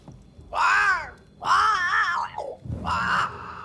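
Harsh, drawn-out crow calls in the Banishers: Ghosts of New Eden video game, three loud strained caws close by with short pauses between them, and no talking.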